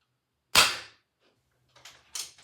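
An Avenge-X PCP air rifle fires at targets: one sharp, loud crack near the start, followed by a couple of softer clicks and a second smaller snap after a short quiet gap.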